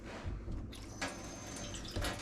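Water runs from a tap in a newly bought house, being checked for low pressure, giving a faint, steady rushing hiss with small splashy surges, close by and without talk.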